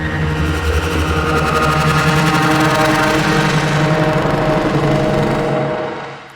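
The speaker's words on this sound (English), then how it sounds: "I exploited an autopan, a device I really like to create interesting stereo movement in the sound." A dense humming synthesized drone with a subtle rhythmic pulsing shimmer from a random synced autopan holds steady, then fades away at the end.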